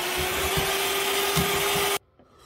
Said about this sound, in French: Je remélange au batteur, vitesse 3.